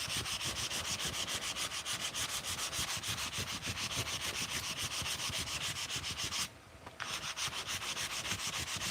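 Continuous rhythmic rubbing of 600 grit sandpaper, steady back-and-forth strokes, close and fairly loud, with a brief pause near the end before the sanding resumes.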